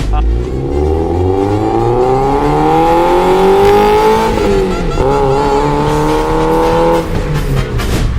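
A Toyota MR2 engine pulls hard through a rising rev sweep, with a brief dip and shift near the middle before it climbs again. It is loud and close, steady and alone, with no voices.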